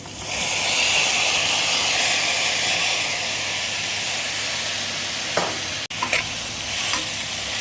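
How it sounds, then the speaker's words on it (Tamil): Chili powder, turmeric and tomatoes sauté in a pan, a loud, close, dense sizzle that holds steady, broken near the end by a brief dropout and a few light scrapes of stirring. "இப்போ சில்லி பவுடர் மஞ்சப்பொடி போட்டு வதக்கிட்டுருக்கேன்"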